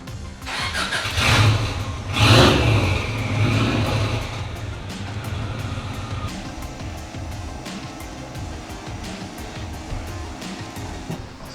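Subaru-powered Saker RapX sports car engine starting and running on a dyno, a loud surging crank and rev in the first few seconds settling into a steady lower rumble.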